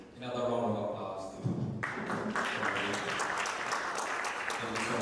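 Applause from a crowd at a political party convention in Boston, steady clapping sustained for several seconds, with a brief thump partway through.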